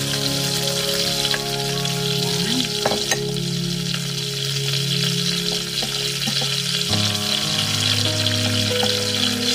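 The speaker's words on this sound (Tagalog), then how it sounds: "so ilagay natin ang butter. Ayan, low fire lang para hindi masunog. At of course ang ating bawang." Butter and garlic fry steadily in a pan over low heat, a continuous soft sizzle and crackle running throughout with occasional light stirring.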